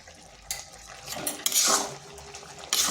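Spoon scraping and clinking in a pan while mixing a vegetarian bottle gourd curry with soft-cooked chana dal, several short metallic scrapes and taps close by.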